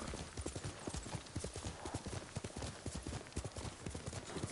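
Horse hooves clip-clop in a steady, rapid rhythm close by on a rocky hillside, loud and continuous with no voices over them.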